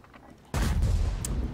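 A tank gun fires in a World of Tanks-style video game, likely a Ferdinand tank destroyer: a single heavy boom strikes suddenly over quiet background and rolls on with a rumbling, noisy tail.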